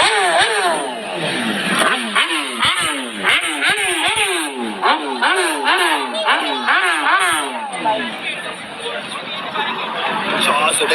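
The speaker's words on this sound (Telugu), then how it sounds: "పవర్ఫుల్ బైక్స్ మొత్తం." Powerful motorcycles rev hard over and over in quick rising and falling bursts, loud and close, with a crowd talking and chattering around them.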